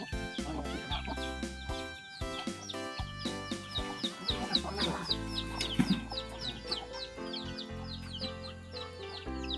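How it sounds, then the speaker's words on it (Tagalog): Chickens cluck and murmur inside a coop, with chicks peeping in high, rapid chirps throughout, close and steady, with no one talking. "yung mga manok sa loob, may sisiw"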